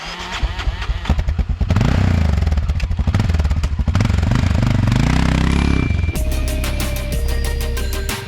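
Honda Dominator motorcycle ridden on a road, its single-cylinder engine loud and close, revving through gear changes, then settling into a steady, buzzing drone with a rising pitch at the end.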